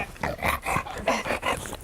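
An excited dog greets a visitor up close with a burst of whimpers, yips and snuffling growls in quick, uneven bursts, loud and close.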